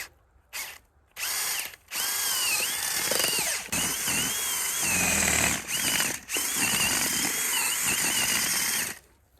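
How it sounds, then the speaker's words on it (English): A power drill whines loudly and steadily, pausing and restarting several times as it bores at an angle into dirt in front of wood, close up. "I'm gonna drill at an angle right in front of this wood here"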